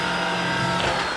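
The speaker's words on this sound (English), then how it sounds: "The fact that you can hear my voice still while the vacuum is on is really great." A vacuum cleaner runs on a hardwood floor in an apartment, a steady loud whirring hum with a constant tone throughout, no voices over it.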